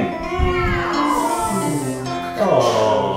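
A crowd of audience members imitates a kitten's meow at a Renaissance fair show, many overlapping high, wavering mewing voices rising and falling together for a few seconds.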